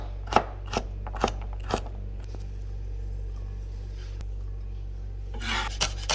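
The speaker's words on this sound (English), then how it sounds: "and then chop into small pieces" A knife chops cucumber into small pieces on a board for onion and cucumber raita, four sharp, evenly spaced cuts early on, then a quieter stretch and a brief scraping sound near the end, close by over a steady low hum.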